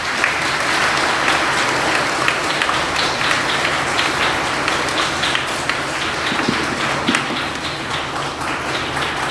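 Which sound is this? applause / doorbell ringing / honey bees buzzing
applause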